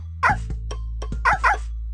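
Three short, high yips from a cartoonish puppy in a Dora the Explorer video game, over a steady electronic hum, two of them close together near the end.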